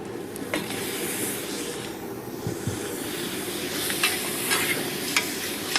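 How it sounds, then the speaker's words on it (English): Meat frying in a pan of onions and masala spiced with cinnamon and turmeric, giving a steady sizzle and hiss broken by occasional scrapes and clinks of stirring. "we actually tip in the meat"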